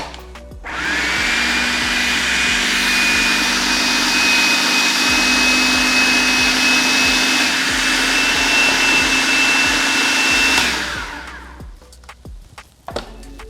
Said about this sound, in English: I like making my whipped cream in a food processor.